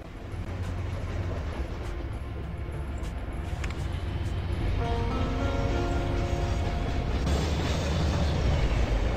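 Game trains rolling along the tracks in Chris Sawyer's Locomotion, a steady rumbling rail bed with clattering wheels and faint tonal squeals, continuous and fairly loud throughout with no talking.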